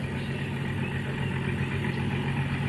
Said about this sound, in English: Hamid, tell them to switch the engine off